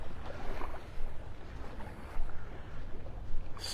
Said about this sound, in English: if you hear those waves from a boat wake lapping up on the shore here